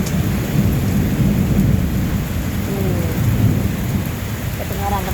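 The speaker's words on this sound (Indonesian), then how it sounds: "Kedengaran teman-teman halilintarnya teman-teman." Thunder rumbles low and heavy through a downpour, with dense rain hissing steadily on surfaces and wind mixed in, loud and continuous throughout.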